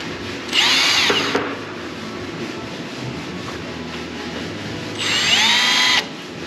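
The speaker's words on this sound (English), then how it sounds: "Drilling just enough here to mark center." Two short bursts of a power drill running a 1/4-20 bit just long enough to mark a center point in a workpiece, each lasting about a second, close and loud with a quiet shop pause between them.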